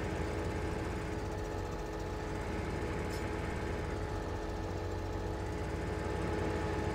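In Farming Simulator 15, a tractor engine drones in a continuous, even rumble that stays loud and unchanging throughout, with no voices.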